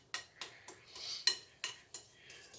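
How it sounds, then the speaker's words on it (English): Cookie batter for chocolate peanut butter chip cookies being worked together in a bowl, a spoon or whisk tapping and scraping against the sides in a steady series of about seven sharp clinks with no voices. "So what we're going to do is gently stir this up, get everything incorporated together so we got a nice consistent color all the way around."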